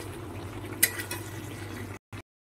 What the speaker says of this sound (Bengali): 5 থেকে 7 মিনিট একটু নেড়ে চেড়ে ভালো করে কষিয়ে নেব যতক্ষণ না তেলটা ছাড়ছে।